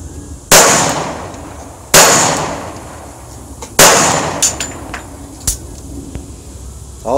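A Girsan 1911 pistol fires three loud, sharp shots spaced about a second and a half apart, followed by a few lighter metallic clacks, outdoors with no talking.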